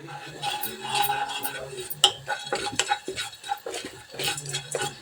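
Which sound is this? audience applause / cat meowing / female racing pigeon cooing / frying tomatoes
frying tomatoes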